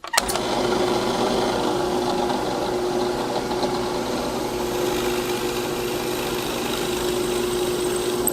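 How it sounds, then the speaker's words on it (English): A drill press whirs steadily and loudly boring a 1/4 inch hole through wood, a continuous motor drone with a mechanical buzz, starting abruptly and running without pause. "I'm just going to drill a 1/4 inch hole through here"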